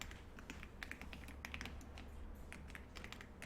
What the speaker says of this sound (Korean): 자, 키보드에 F7을 눌러줄게요.